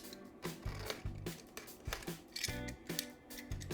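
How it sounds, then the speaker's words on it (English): A knife slices through security tape on a keyboard box with a series of short rasping strokes, close and fairly quiet, with no talking. "we shall tamper with it using our trusty knife here"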